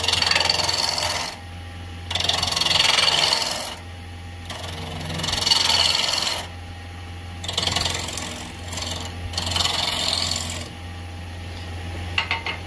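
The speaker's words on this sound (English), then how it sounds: "Rest the gauge on the tool rest and just rub the bevel and then bring the handle up until it's cutting" A wood lathe turns as a gouge cuts the spinning wood from the centre outward, giving repeated rough scraping bursts about every two seconds over a steady motor hum.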